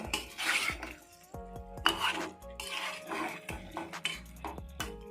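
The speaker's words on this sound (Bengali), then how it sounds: "2 থেকে 3 মিনিট ভালোভাবে নেড়ে চেড়ে আমরা আলু এবং মশলাটা কষিয়ে নিয়েছি" A spoon scrapes and clinks against a metal pan while potatoes and spices are stirred for Kashmiri aloo dum, soft irregular scraping strokes with occasional knocks, fairly quiet and close, with no talk.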